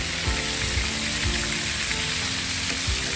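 Steady, dense sizzling of battered fish frying in hot oil in a pan, continuous and close, with faint clinks underneath.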